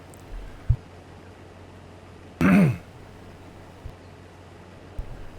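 A single short, close throat clearing breaks a quiet room, with faint clicks before and after.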